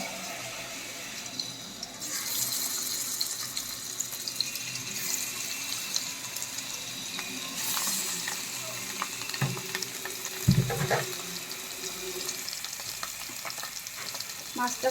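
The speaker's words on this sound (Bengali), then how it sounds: "তেলটা গরম হলে আমি মাছটা ভেজে নেব" Rohu fish frying in hot oil in a wok, a steady crackling sizzle with occasional clinks of a utensil against the pan throughout.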